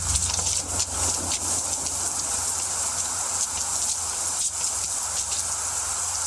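Heavy rain falls steadily and densely, a continuous close hiss of drops pattering on surfaces with no voices over it.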